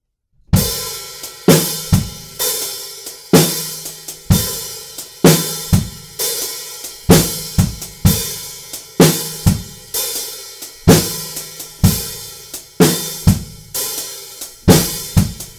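A rock drum groove on a kit, hi-hats carrying steady eighths while an electronic snare pattern layers over the kick and snare hits, loud, close and evenly repeating throughout with no talking.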